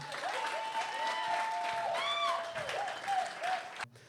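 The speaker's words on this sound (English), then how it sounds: "Clap it up for Harlem." A comedy club crowd applauds for Harlem, dense clapping throughout, with a voice whooping or calling out over it near the middle.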